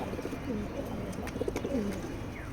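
A pair of racing pigeons in a loft, giving soft repeated coos close by against a faint background hum.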